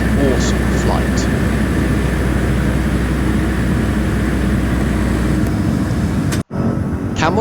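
A Loganair Twin Otter propeller plane lands, heard from on board as a loud, steady engine and propeller drone that briefly cuts out near the end.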